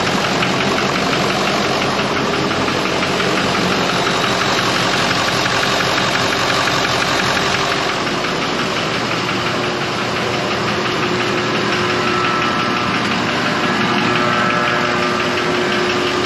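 A 6.0 Powerstroke diesel engine idles after being hydrolocked, a loud, steady, rough clatter with a constant knocking rattle that runs unbroken and close throughout.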